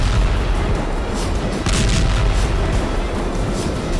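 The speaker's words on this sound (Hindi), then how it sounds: "और ये देखिए गोलियां चलने की लगातार आवाज।" Continuous gunfire during a Taiwan military live-fire drill, a loud, dense barrage of booms and cracks merging into a constant roar with a brief burst standing out midway.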